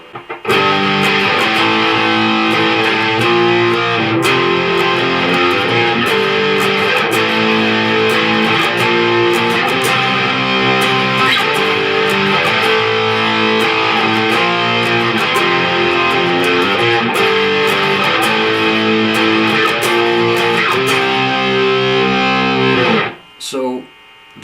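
Electric guitar with distortion plays intro and chorus riffs, loud and continuous chugging riffing with amp hum, stopping abruptly near the end.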